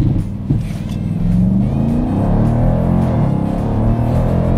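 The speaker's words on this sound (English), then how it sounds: "So under the hood of this Durango, we've got a V8." A Dodge Durango R/T's V8 engine runs loud and close with a deep, steady low rumble, pitch rising and falling slightly as it revs, with no talk over it.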